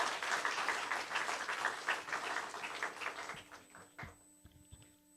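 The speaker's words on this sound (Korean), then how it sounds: "우리 큰 박수로 환영하고 오늘 세미나 시작하도록 하겠습니다." A church congregation at a seminar claps in welcome for a visiting pastor. The applause is moderately loud and fades over a few seconds, and a couple of sharp knocks follow near the end.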